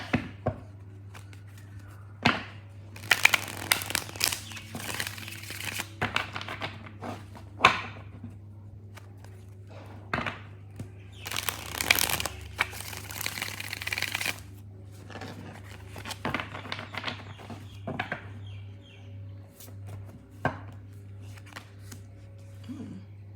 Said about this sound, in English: gonna do 3 more shuffles and then move forward.